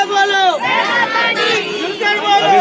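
A dense crowd of people gathers at a cave entrance on New Year's Day, with many overlapping voices forming a close, continuous hubbub that rises and falls, occasional shouts cutting through the babble.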